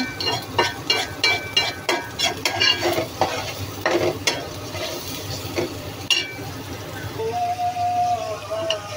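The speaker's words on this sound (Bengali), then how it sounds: "এগুলো কষতে থাকুক, না কষলে এগুলো নুন মরিচের মশলার ঘ্রাণটা যাবে না" Onions with turmeric and chili spices fry in a pan, a steady close sizzle broken by repeated stirring scrapes and clinks of a utensil against the metal.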